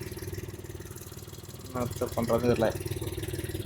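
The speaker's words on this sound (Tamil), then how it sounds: "இன்ஜின் சவுண்டு வேறு டிஃப்ரெண்ட்டாக வருது." Car engine running with an unusual, different sound after a repair, a steady low rhythmic throb heard close, with someone talking over it midway.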